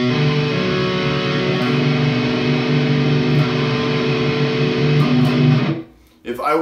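Distorted electric guitar rings out an inverted chord on the first three strings for a heavy melodic metal part, one loud sustained chord held about six seconds before cutting off, followed by a short noise.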